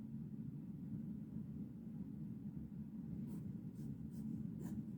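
Steel-nib Delta Musei Vaticani fountain pen writing on paper, a soft continuous scratchy rustle of nib strokes over low background hum, close and quiet.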